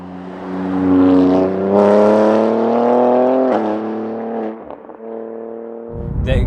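A BMW G87 M2 with an Eisenmann Race full exhaust drives past loud and near, its engine note climbing through gears with a short drop, then revving again at the end.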